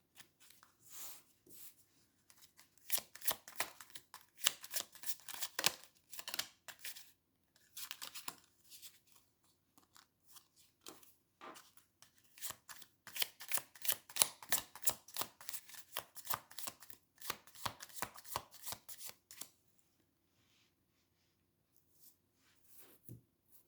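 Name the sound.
shuffling tarot cards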